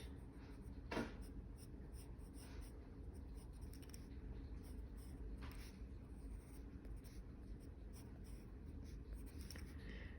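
Pencil drawing on paper while sketching a turban head covering, soft faint scratching strokes with one sharper mark, close and quiet over steady background hiss.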